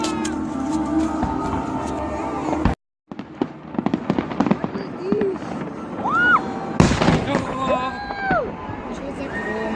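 A fireworks salute bursting overhead, with loud crackling and popping explosions, a brief silence, then further bangs and whistling rockets rising, while people nearby chatter.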